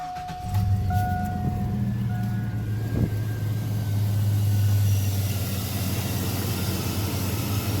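A 2001 Chevy Silverado 1500 LT pickup's engine turns over and settles into a steady low idle, a continuous close rumble with a faint high whine lasting several seconds.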